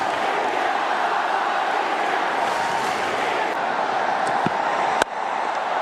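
A packed cricket crowd at Wankhede Stadium roars after a wicket falls in an India versus West Indies T20 match, a loud, sustained wash of cheering with a sharp bang near the end.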